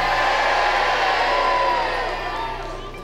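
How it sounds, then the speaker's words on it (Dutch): A theatre audience, many children among them, cheers and whoops loudly for the queen at a family show, a sustained roar of voices that eases slightly toward the end. "Als ik op dit knopje druk, gaat iedereen juichen voor de koningin."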